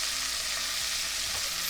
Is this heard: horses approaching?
no